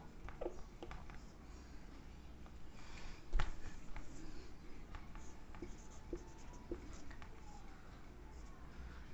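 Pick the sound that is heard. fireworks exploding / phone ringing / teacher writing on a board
teacher writing on a board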